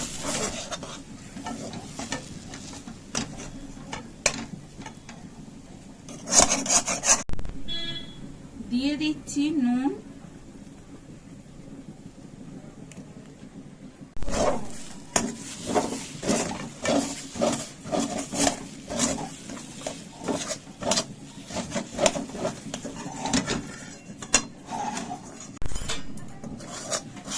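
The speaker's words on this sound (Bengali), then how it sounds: "কড়াইশুঁটিটা ঘন ঘন নাড়াতে হবে, নাহলে এভাবে কড়াইতে লেগে যায়" Water-free ground green pea paste frying in a wok while a spatula scrapes and stirs it, steady rasping strokes with a soft sizzle, close and continuous, with a person talking over parts of it.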